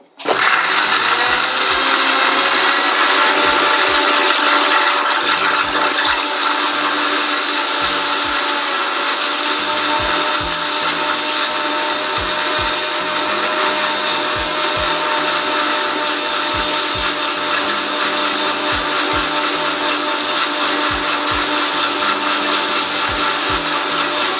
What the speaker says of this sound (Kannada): ಇದನ್ನು ಚೆನ್ನಾಗಿ ಗ್ರೈಂಡ್ ಮಾಡ್ಕೊತೀನಿ